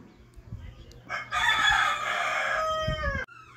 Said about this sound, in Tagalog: Huwag yun ang pansinin yung tilaok ng manok.